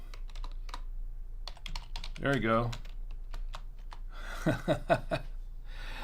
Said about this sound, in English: That's me typing that in